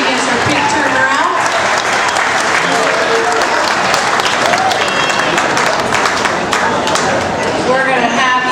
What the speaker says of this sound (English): Let's give this exhibit a round of applause as she gets her pig turned around.